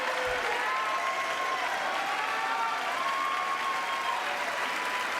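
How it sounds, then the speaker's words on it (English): An audience at the 2024 State of the Union applauds, a sustained, even wash of clapping that fills the hall from a distance, with faint voices rising over it. "I don't want to hear the applause for that"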